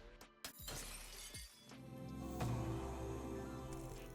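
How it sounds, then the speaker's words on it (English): A giant chandelier crashes down in an animated cartoon scene, with a loud burst of shattering glass and breaking debris under dramatic music, then ringing tinkles as the fragments settle. "The giant chandelier comes crashing down,"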